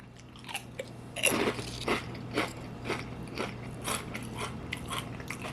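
Loud, close crunching as someone bites and chews Mark's Kettle Chips, potato-flavoured salted kettle chips fried in avocado oil, in a series of irregular crisp crackles.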